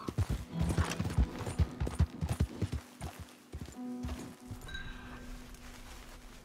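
Horses in the video game Red Dead Redemption 2 clop along in a rapid run of hoofbeats that trails off, followed by quieter ambient game sound, with no talking.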